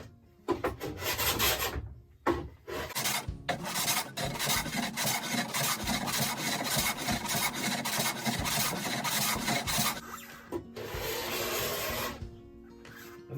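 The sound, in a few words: tool rubbing across 8x4 plywood sheet surface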